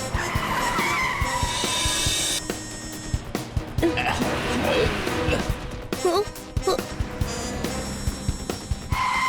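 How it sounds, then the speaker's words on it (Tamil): A cartoon car skids to a sudden stop, a long screeching tire squeal across the first seconds followed by dialogue and cartoon sound effects layered over background music. "எதுக்கு வண்டியை நீங்க சட்டு நிப்பாட்டினீங்க?"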